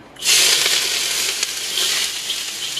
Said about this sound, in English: I'm going to throw this onion in and basically stir fry it.